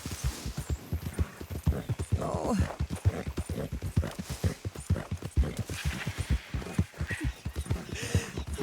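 Rhythmic clip-clop of a horse's hooves walking steadily in a video game, fairly quiet and continuous, with a person briefly exclaiming over it.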